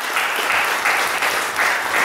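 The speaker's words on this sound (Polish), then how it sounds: "Ogromna brawa" Concert audience at a Polish poetry-song competition gives hearty applause, a steady, loud wash of clapping with no voices over it.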